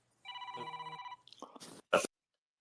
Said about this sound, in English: His phone's ringing.